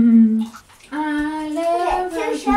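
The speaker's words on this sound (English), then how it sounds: "We add a lot of water." Water poured into a neti pot, a continuous splashing stream with a voice talking over it throughout, close and fairly loud.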